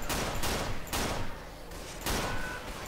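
Gunfire in the video game Left 4 Dead 2, dense rapid bursts of shots in about three loud volleys with brief gaps between them, up close and filling the mix.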